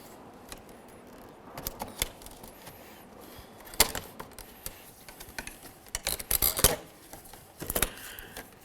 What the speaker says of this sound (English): Continuing with the trim tool, I'm going to carefully get underneath this and gently pry it up as well.